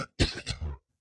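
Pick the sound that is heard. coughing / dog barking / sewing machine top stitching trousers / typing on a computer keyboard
coughing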